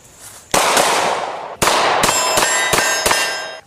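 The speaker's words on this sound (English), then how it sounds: "We're going to safety check the pistol just to make sure that it is unloaded." A Glock pistol being safety checked, its slide racked back and forward in sharp metallic clangs and clicks, several close crisp mechanical strikes with ringing tails.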